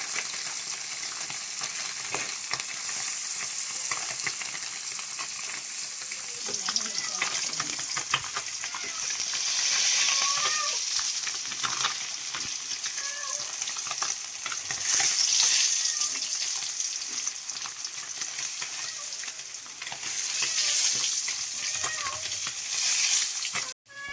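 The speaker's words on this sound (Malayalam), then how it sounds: "വറുത്തെടുക്കാൻ പോകുന്നത് നമ്മുടെ നീളമുള്ള മീൻ" Long fish frying in hot oil in a pan, a continuous close sizzle that swells louder at moments with bursts of spitting and crackling, with occasional scrapes and clinks of stirring.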